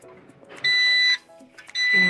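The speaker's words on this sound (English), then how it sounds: "Then we have another beep." A heating tumbler press machine sounds two loud, piercing electronic beeps, each lasting about half a second, close by, separated by brief quiet and soft background noise.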